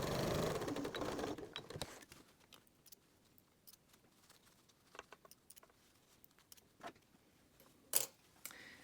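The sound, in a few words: sewing machine sewing a fabric scrunchie and backstitching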